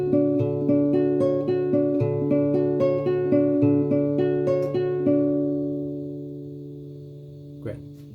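An acoustic guitar chord is picked note by note in a steady repeating fingerpicking pattern, bright and close, then left to ring and fade near the end with a small knock.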